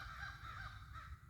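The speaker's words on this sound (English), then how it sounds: "You can hear some crows in the background." Crows cawing in the background on a spring nature walk, faint and distant harsh calls repeating over a soft outdoor hush.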